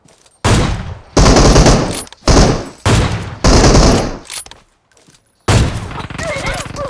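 Gunfire in the mobile battle royale game PUBG Mobile, with loud sustained automatic bursts in several rapid volleys separated by short gaps, close and dominant, alongside brief speech.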